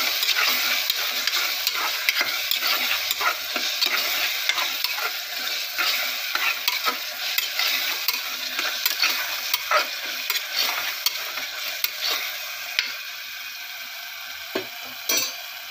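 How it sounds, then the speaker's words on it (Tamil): Mint and coriander sautéing in a pan while being stirred, a close, continuous sizzle broken by frequent scraping and clattering strokes of a spatula throughout, with no talk. "புதினா மல்லி சேர்த்துட்டு நல்லா வதங்கட்டும்."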